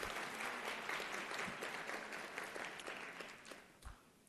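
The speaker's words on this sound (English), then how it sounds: "Round of applause for Dr. Sasser." Audience applause at a nursing school convocation, with steady, moderately dense clapping that holds for several seconds and then tapers off, sounding somewhat distant in a large hall.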